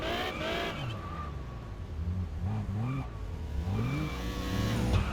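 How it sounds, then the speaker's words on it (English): A car engine in Test Drive Unlimited revs and accelerates in cockpit view, with rising and falling engine tones that climb through gears, close and prominent, with tyre noise beneath. "car's on, it's revving"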